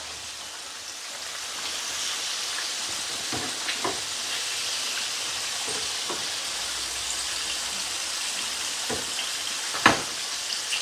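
Buttermilk-marinated chicken legs and wings pan-fry in shallow oil, a steady close crackling sizzle running throughout with a few brief sharper pops and a louder spatter near the end, no voices.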